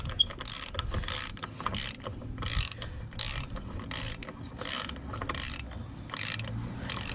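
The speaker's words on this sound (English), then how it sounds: "Yeah, ratchet that on." A hand ratchet tightens the ball joint bolts on a Volvo P2 front suspension. Repeated rapid clicking strokes come in regular bursts, loud and close, with short pauses between the pulls.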